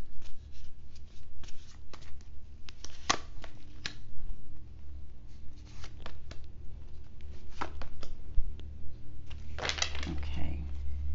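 Tarot cards being shuffled by hand, with a card dropping out of the deck, give soft riffling and slapping clicks in irregular bursts against low room rumble, with faint background sounds throughout.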